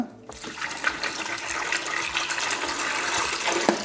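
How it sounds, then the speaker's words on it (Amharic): Water pours into a blender jar holding chopped sugar cane, a steady splashing, gurgling stream that runs for several seconds close up. "ትንሽ ውሃ እንጨምርበትና"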